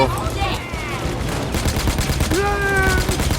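Rapid automatic gunfire rattles continuously in the shooter game Payday 2, loud and close, with bursts layered under someone talking excitedly.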